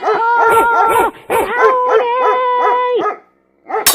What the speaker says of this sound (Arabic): مين اللي سلط الكلب الصغير ده عليا علشان يقضني من رجلي